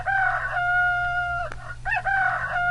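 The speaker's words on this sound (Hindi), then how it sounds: "कुकड़ू कू कौन बोलता है? मुर्गा।" A rooster crows in drawn-out, cock-a-doodle-doo calls, loud and close, with a short break and a brief squawk before the crowing resumes.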